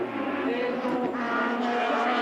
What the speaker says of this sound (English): there's another car coming into the pits